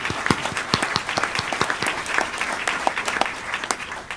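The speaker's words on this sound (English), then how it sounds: "So, applause to the journalists." Audience applause for journalists at a memorial service for Judy Baar Topinka: a crowd claps steadily and moderately for about four seconds, with individual hand claps distinct within the sound.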